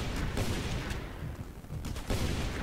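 Gunfire exchange in a Just Cause 2 multiplayer match, a dense continuous rattle of shots with a few louder bursts, steady and fairly close throughout.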